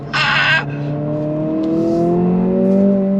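A 2023 Honda Civic Si, front-wheel drive with a limited slip differential, pulls hard from second into third gear, a loud engine note climbing steadily in pitch after a brief burst of noise at the start.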